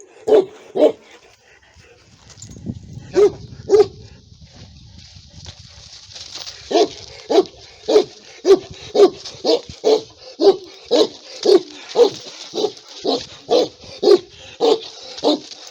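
A dog barks repeatedly, loud and close, in a steady run of single barks with a brief pause early on.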